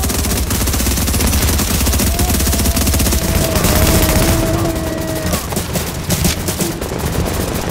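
Sustained automatic gunfire in The Division at a refugee camp mission, a dense continuous rattle of rapid shots with booming low end, loud and close throughout, with a faint whining tone in the middle.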